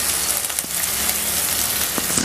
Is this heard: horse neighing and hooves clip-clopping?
no